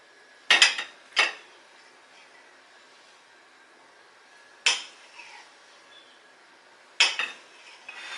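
A knife chops extra firm tofu into one-inch chunks on a board, giving four sharp, close knocks: two quick strikes, a long pause, then two more spaced cuts in a quiet room.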